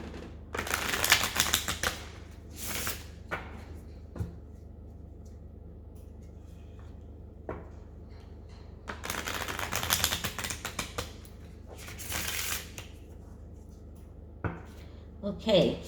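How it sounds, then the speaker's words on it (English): Bursts of crisp riffling and shuffling of tarot cards come in several separate rounds with quiet pauses between, close by. "So first I'm going to shuffle the cards."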